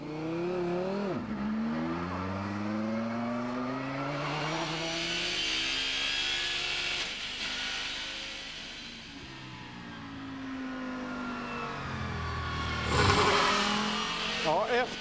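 Last season's STCC championship-winning race car lapping a circuit: a loud, continuous engine note climbs and drops repeatedly through gear changes, with a brief lull and a sharp burst near the end.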